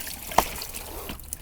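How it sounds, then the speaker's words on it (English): Water running backwards through a pool pump after the bleeder valve is opened, a steady close trickling hiss with a brief sharp knock near the start. "open the bleeder valve to let the water run backwards and push any last little bits of debris or leaves from the pump"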